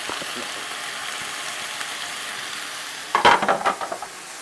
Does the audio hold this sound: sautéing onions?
yes